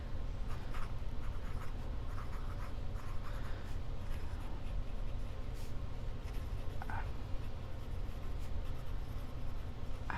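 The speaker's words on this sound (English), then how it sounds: "I do still feel like my pens are just gliding over the paper" A fountain pen glides and scratches across smooth Clairefontaine paper, a continuous close-up rustling with small rhythmic strokes and occasional taps, no voices.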